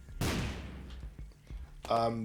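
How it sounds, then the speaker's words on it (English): A bomb explodes in The Binding of Isaac video game when the Tower card sets off random bombs around the room: one sharp blast with a short decay, then quieter game noises and a brief tonal effect. "The tower will spawn random bombs all over the room."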